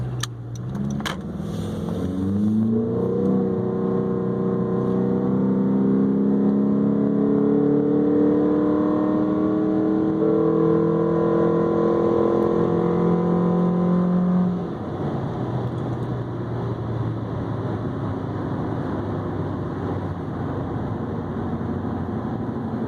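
A 2014 Honda Accord Sport fitted with a K&N Typhoon cold air intake accelerates hard in sport mode, engine note climbing through rising revs with a gear change before settling into a steady cruise, heard loud and close from inside the car.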